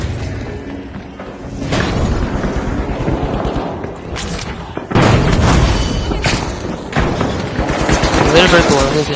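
Grenades go off in The Finals, a pair of loud blasts amid rattling gunfire and shattering debris, with voices talking over the chaotic firefight.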